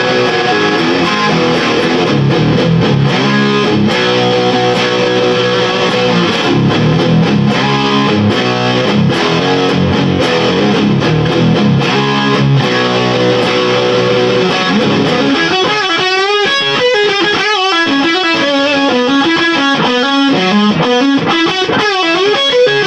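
A distorted electric guitar plays through a Rivera Fandango amplifier, loud and full with chugging chords, then shifting to brighter, wider single-note runs near the end as presence and focus are raised.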